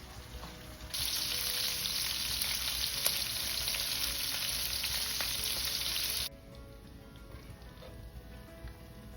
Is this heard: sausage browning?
yes